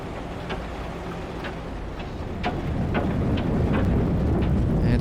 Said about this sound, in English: And it's raining down here